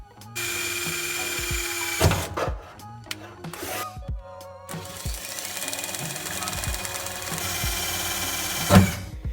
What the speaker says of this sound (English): you're drilling into the floor